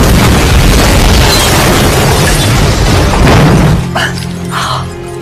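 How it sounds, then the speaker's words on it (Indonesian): A car bomb explosion in an action film, a loud sustained roaring blast with crashing debris that lasts several seconds before fading into lower rumbling and faint noise. "karena terjadi ledakan yang sangat dahsyat"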